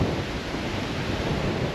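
Strong wind roars through a gorge in the Flinders Ranges, a dense, steady broadband rumble buffeting close by with no pauses and no voices.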